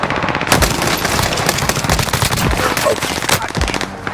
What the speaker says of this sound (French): Ce sont des tirs nourris.